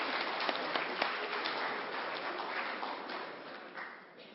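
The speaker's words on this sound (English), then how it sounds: "Please give yourself some applause." A large crowd at an interfaith peace conference applauds continuously, a broad, even wash of clapping heard from a distance, fairly quiet and fading slightly toward the end.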